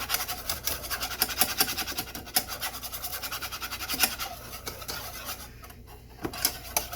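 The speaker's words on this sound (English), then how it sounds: "whisking it, making it smooth, blending it in until you get it to the consistency that you want it. Takes a lot of whisking." A whisk scrapes briskly around a pan, beating homemade gravy from pan drippings in fast, even strokes that tick and rasp against the metal.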